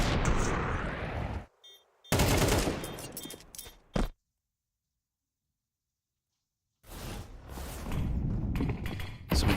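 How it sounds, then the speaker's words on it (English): Desert Eagle pistol shots in Counter-Strike during a BLAST Premier Open London pro match, loud sharp bursts crowding the first four seconds, then a silent gap before dense firing resumes. "Some inspiring shots from Cypher's Deagle"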